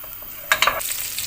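Onions dropped into melted butter and olive oil for a fish soup, a sudden burst of sizzling that settles into a steady frying hiss.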